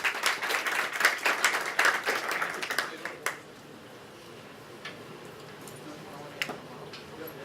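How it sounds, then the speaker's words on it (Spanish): An audience applauds a guest at a cyber insurance claims talk. The dense clapping fills the first three seconds, thins out and leaves a quiet room with a few stray claps. "Le pido un fuerte aplauso para ella"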